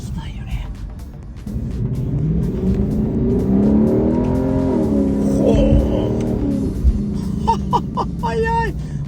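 A Lexus LC500 speeds up on a road in Los Angeles, its engine note climbing in smooth rising sweeps before easing off, heard from inside the car over a steady road rumble.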